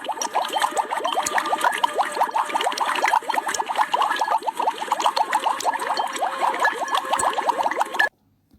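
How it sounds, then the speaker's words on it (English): Continuous gurgling and bubbling of liquid, steady and fairly loud for several seconds before it stops abruptly. "have you ever heard the sound of bubbling sound?"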